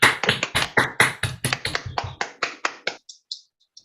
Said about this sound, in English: just give a big round of applause for this guy